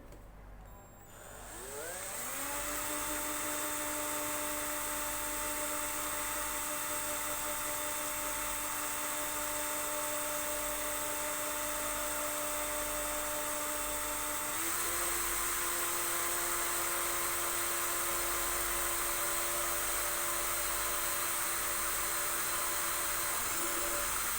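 A small 2mm drill boring through a ukulele bridge whines steadily for a long stretch, spinning up at the start and shifting pitch slightly midway as it bites.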